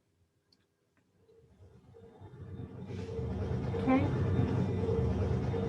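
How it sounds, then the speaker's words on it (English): A synthesizer produces an electronic helicopter sound effect that fades in from quiet and builds into a steady, fluttering whir with a rapid pulsing texture, holding loud toward the end. A short spoken word comes near the start. "Let's check out the helicopter."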